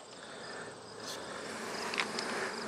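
Honeybees fanning inside a hive just after a formic acid treatment goes on, a faint, steady low buzzing hum with a few brief higher flickers of single bees close by.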